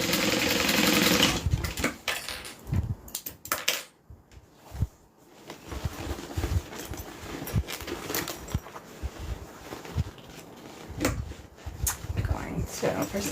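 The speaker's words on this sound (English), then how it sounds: "open up my side seams, sew those down so everything is nice and straight" A sewing machine stitches down the side seams of a custom garment in short bursts with pauses, starting loud and close, while a person talks over much of it.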